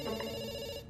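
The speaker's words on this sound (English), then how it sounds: "we pick up the phone because it's ringing" A telephone rings in a broadband company advert, one loud electronic ring burst with steady tones that cuts off near the end, with no talking.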